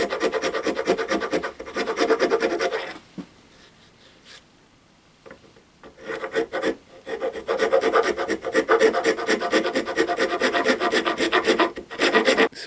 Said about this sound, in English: So I'm just going to use a rasp, and this is a second cut rasp.